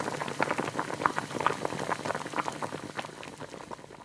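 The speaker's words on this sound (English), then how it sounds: "we'll let it simmer until it's cooked" Potatoes simmer in boiling water that bubbles and pops in a steady, busy simmer, close up, with no voices.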